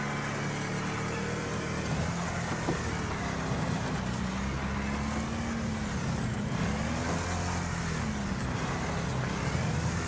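A truck engine in the racing game Wreckfest drones steadily throughout, its pitch rising and falling with acceleration, accompanied by occasional hisses and broadband road noise, with no talk.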